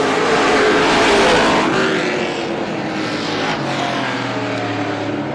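Race cars roaring around Star Speedway, a steady, loud engine drone from a tight pack of cars passing close by, with a swelling rush as they go past and no voices over it.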